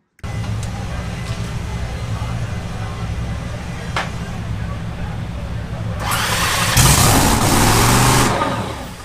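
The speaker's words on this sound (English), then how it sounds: "I'll let you guys listen to what it's like to start a car up" A drag racing car engine at the US Nationals drag races starts and idles with a low rumble, then roars louder and harsher toward the end, with voices faintly audible underneath.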